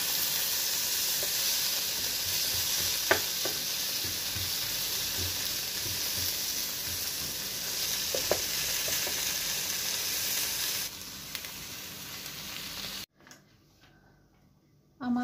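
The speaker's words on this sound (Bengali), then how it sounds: "এর মধ্যে আমি একটু পেঁয়াজ ভেজে নেই, শুধু কাঁচা কাঁচা ভাবটা যাতে চলে যায় সেই জন্য।" Onions fry in a pan with boiled flat beans, a steady, soft sizzle with occasional stirring clicks that stops abruptly near the end.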